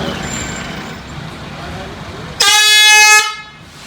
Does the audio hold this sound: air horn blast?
yes